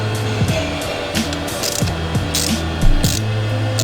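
A ratchet tightens the handlebar riser clamp on a 2014-2020 Harley-Davidson Street Glide or Electra Glide, its close, loud pawl clicks coming in quick repeated bursts with brief pauses between strokes.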